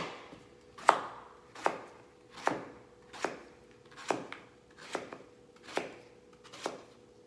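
Green banana (green plantain) being chopped on a board with a knife, nine crisp, evenly spaced chops at a steady rhythm, close and clear with no talk.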